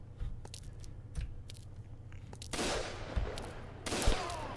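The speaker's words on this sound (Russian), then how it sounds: "Да, этот дробовик намного круче." Shotgun fire in the WasteWater online game, several sharp blasts spaced over a few seconds with a couple of longer noisy bursts, fairly quiet against a low steady game hum.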